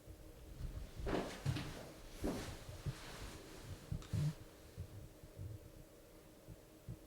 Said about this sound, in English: That was a knock. Yeah, I heard that.